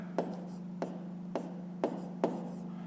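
Pen or pencil writing maths on paper by hand, five distinct scratching strokes spaced at a steady rhythm, close and clear over a constant low hum.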